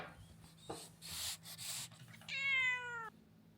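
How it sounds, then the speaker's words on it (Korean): A house cat gives one clear, drawn-out meow close by, following some rubbing and shuffling noises indoors. "고양이다."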